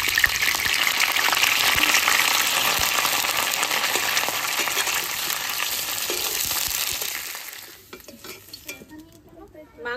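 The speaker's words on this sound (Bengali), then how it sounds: "মাংসের আলুটা আগে ভেজে নেব।" Potatoes for a meat curry fry in a pan with a dense, loud sizzle and occasional stirring scrapes, the frying fading to quieter crackles and utensil clinks toward the end.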